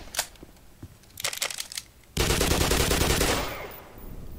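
Gunfire in the video game Black Mesa: a few scattered sharp shots, then a loud sustained burst of automatic fire that rattles on for over a second before fading into echoing noise.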